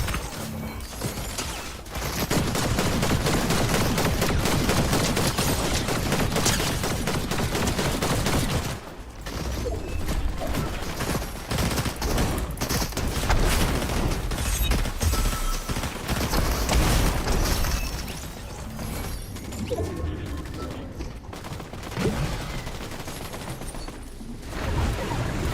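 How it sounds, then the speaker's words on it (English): Dense, nearly nonstop bursts of gunfire in a Fortnite Blitz Duos match, loud and mechanical with clattering volleys, brief lulls around nine and twenty seconds, and no talk over it. "So much gunfire."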